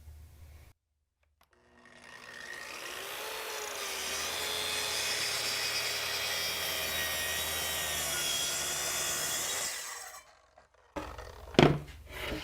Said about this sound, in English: So now I've cut that in half, again, working toward making it easier to manage.